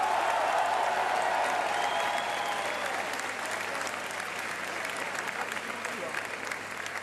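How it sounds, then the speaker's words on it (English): Audience applause at a French presidential campaign speech by centrist candidate Emmanuel Macron, a dense, steady wash of many hands clapping that fades slightly toward the end, with no voice over it. "Thank you for having applauded them just now."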